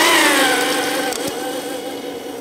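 An RC snowmobile driven by a 3500kv brushless motor on a 4-cell 14.4v LiPo whines at half throttle, a loud high-pitched tone that slides downward as it speeds away and fades.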